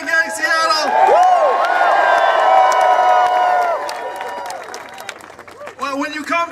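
A large, growing crowd at a campaign rally in Seattle cheers and applauds loudly for several seconds. The clapping and whoops slowly fade, then a voice rises again at the end.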